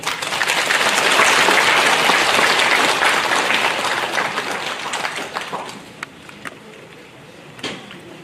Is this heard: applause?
yes